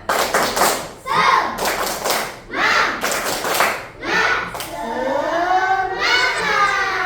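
A class of schoolchildren performs a rhythmic spirit clapping chant, with loud bursts of group clapping in a steady beat and then the children's voices chanting together near the end.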